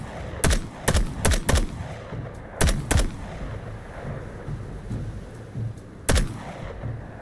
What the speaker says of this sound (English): before I shoot you too